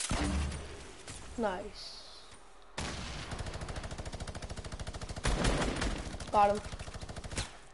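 Rapid automatic gunfire bursts from a video game, with a long steady rattling volley in the second half, while a player talks and reacts over the shooting.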